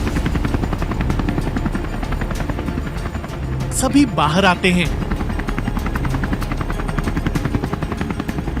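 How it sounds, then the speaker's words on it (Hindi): Helicopter in an animated cartoon, a steady rotor chop throbbing loudly through the whole stretch while a voice narrates over it. "आसमान में हेलीकॉप्टर कहां से आ टपका"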